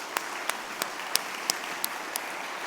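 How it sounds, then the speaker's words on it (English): Sparse, evenly spaced claps from a conference audience, roughly three per second, sharp but fairly quiet over a steady background hiss. "let's clap it up for them"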